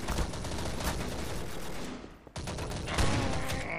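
Guns fire in the Gun Game mode of Garry's Mod: a dense, fairly quiet burst of rapid shots that stops briefly partway through and then resumes.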